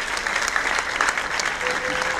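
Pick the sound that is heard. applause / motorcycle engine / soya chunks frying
applause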